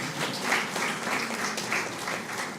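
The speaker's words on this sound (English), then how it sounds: "Let's still clap." An audience at an official results release claps steadily, a moderate wash of applause that holds evenly throughout.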